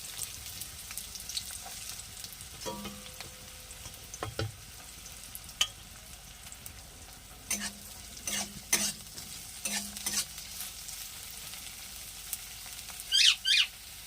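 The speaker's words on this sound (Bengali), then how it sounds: "এবার দিয়ে দেবো কেটে রাখা পেঁয়াজ" Chopped onion and dried chili frying in oil in a pan, a faint soft sizzle under occasional scrapes and clinks of stirring, with a few sharp high squeaks near the end.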